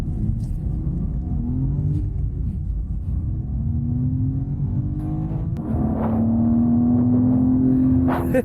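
A 2021 BMW M3 with a manual stick shift, in Sport mode, gives a deep engine rumble that rises in pitch as it accelerates through the gears, heard steady and close from inside the car.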